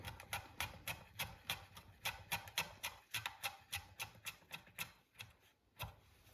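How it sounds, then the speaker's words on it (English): A knife chopping rolled basil leaves into thin strips on a cutting board, a quick, regular series of crisp taps close by that slows near the end, with no talk. "And then you just cut it into little thin strips."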